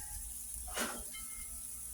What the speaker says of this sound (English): I'll let y'all hear them sizzle for a minute.